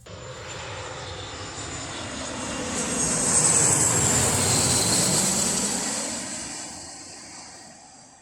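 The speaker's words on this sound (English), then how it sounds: "that aircraft here was a Loganair Embraer 145" A Loganair Embraer 145 jet passes at an airport, its engine roar rising to a broad, loud peak midway, then fading smoothly as it moves away, with a thin high whine above the rumble.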